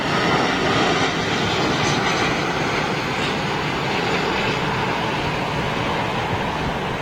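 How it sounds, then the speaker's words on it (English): A fixed-wing airliner at London Heathrow Airport roars loudly and steadily, its engine noise a broad, constant rush from start to finish. "Look at that beautiful aircraft."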